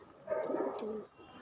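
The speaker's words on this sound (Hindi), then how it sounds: "देखो ये जंगली कबूतर का बच्चा" A wild pigeon chick gives a single soft, low coo, close by on a rooftop, with quiet background noise.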